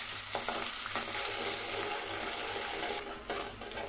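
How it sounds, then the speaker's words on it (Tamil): Chopped onions sautéing in oil with curry leaves for rava kichadi, a continuous close frying hiss with light stirring scrapes, easing slightly near the end, no talking. "சேர்த்துட்டு வெங்காயத்தை லேசாக வதக்கி விடுங்க."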